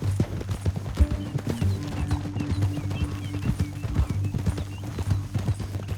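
Horse hooves clip-clop steadily in the Red Dead Redemption 2 video game, a close, even rhythm of hoofbeats over a low droning game score.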